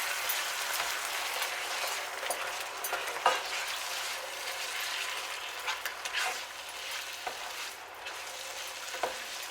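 Tomatoes and oregano being stirred into a pan of sauce for stuffed squid, a steady soft sizzle with scraping stir strokes and occasional louder clicks of the spoon against the pan.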